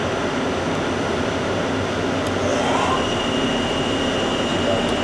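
A Hardinge Conquest SGET-42SP CNC lathe main spindle spins at 1,000 RPM, giving a steady, even broadband whir that holds at a constant level throughout with no talking.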